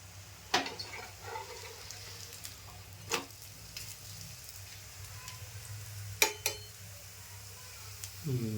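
Sprouted moong thalipeeth pan-frying in ghee, a soft, steady sizzle with a few sharp clicks and scrapes of a spatula against the pan, fairly quiet and close.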